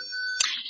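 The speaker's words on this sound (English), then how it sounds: "Sorry for the beeping." Several steady electronic tones ring out in a room, then cut off with a brief noisy burst, leaving a faint hiss.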